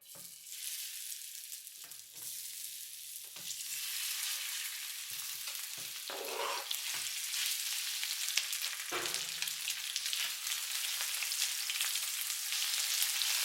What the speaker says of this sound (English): Next, we're going to add some oil. Next, we're going to add the beef.